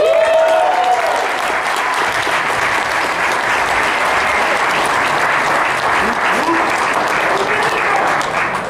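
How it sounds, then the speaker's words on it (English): A crowd applauds the cast at a Cujo reunion panel at a horror convention, loud and dense, with sustained clapping throughout and a few cheers rising over it. "How about a round of applause?"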